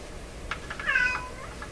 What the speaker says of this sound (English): That's my cat. That's not the radio.